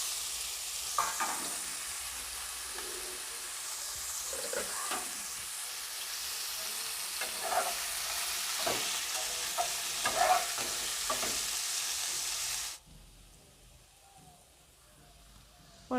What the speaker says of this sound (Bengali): কড়াই গরম হয়ে গেছে, এর মধ্যে দিয়ে দেব ফুলকপি।